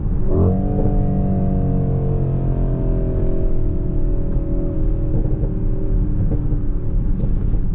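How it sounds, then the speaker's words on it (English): A Mercedes-AMG GLE 63 S Coupé engine rumbles loud and close, its revs sliding down through a gear change and ending in faint crackles from the exhaust. "Listen to those pops, man."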